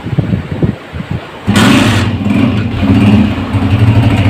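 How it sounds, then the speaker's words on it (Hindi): A 2013 Honda CG 125 motorcycle is kicked into life after a brief rustle, then its single-cylinder engine settles into a steady, loud, close idle with a throbbing low rumble. "अब बाइक को स्टार्ट करेंगे, इसका इंजन का साउंड सुनेंगे"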